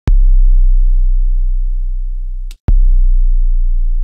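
Two booming Roland 808 kick drum hits with the pitch turned down very low; each deep sub-bass thump rings out in a long, slowly fading decay, the second starting right after the first cuts off.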